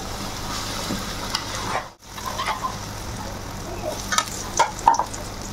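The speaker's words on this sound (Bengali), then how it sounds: "এখন বাকি ডালের যে মিশ্রণটা বানিয়েছিলাম এই মিশ্রণটা দিয়ে অল্প কষাবো" Chickpea dal mixture being sautéed in a pan with cumin, a soft continuous sizzle under scraping spatula strokes, with a brief pause and sharper clinks of the utensil near the end.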